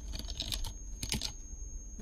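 Computer keyboard keys pressed in a short burst of close clicks, typing a shortcut during photo editing, with a high steady hum in the background.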